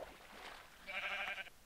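A single wavering Minecraft sheep bleat, soft and short, against quiet game background noise.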